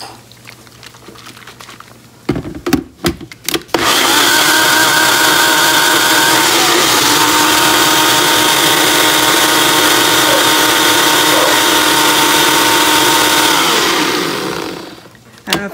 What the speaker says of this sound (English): I'm going to give this a blend, get all those powders mixed up real well